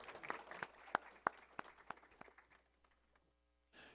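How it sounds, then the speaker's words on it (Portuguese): People in a legislative assembly chamber give a round of applause for Dr. Edson, with scattered individual claps ringing out sharply and then tapering off into near silence. "Uma salva de palmas ao Dr. Edson."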